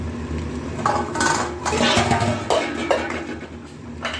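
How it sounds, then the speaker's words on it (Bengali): A metal pot lid lifted off chicken kosha and clattering toward a sink, with scattered clanks and scraping knocks in close succession and a faint watery wash underneath. "ঢাকা খুলে তোমাদের দেখাচ্ছি"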